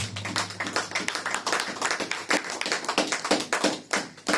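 A church congregation claps together in a fast, steady rhythm, many hands striking at once in dense bursts that carry on without pause.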